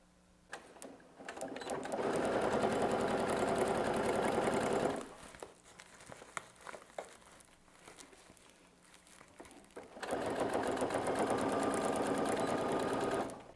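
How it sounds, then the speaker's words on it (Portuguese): A sewing machine stitches an insulated lunch bag in two sustained bursts of rapid, steady running, near and loud, with a quieter stretch of small handling clicks and fabric rustle between them. "enquanto eu tô aqui costurando"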